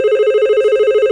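Telephone ringing in a home in the evening, a steady electronic ring with a rapid warbling pulse, loud and close, with no voices over it.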